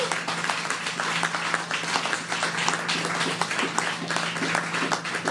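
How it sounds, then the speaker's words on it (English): A crowd applauds steadily, a dense, continuous patter of clapping from many hands at moderate volume throughout. "Let's give them a round of applause."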